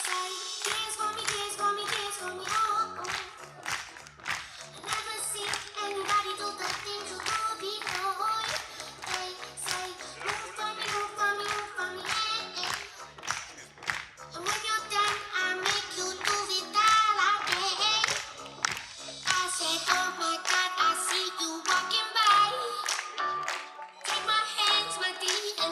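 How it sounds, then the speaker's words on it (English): An audience at a live show clapping hands in a steady, rhythmic unison beat that continues for a long stretch, loud and crowded, with brief dips before the clapping picks up again. "Clap your hands."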